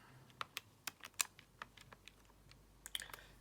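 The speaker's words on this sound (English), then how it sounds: "Type that into my calculator." Keys tapped on a calculator keypad, a quick irregular run of a dozen or so light clicks with brief pauses, close and fairly quiet, no talking.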